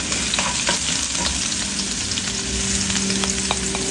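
Two cloves of garlic sautéing in a pan for a bottle gourd and chicken dish, a loud continuous sizzle with occasional stirring scrapes, close up and unbroken by any voice.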